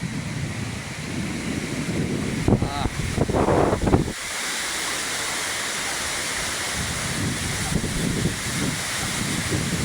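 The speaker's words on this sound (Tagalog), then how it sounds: "Taas pa rin ang hangin hanggang ngayon." Strong typhoon wind roars and buffets the microphone in steady gusts, with a brief exclamation from a person partway through.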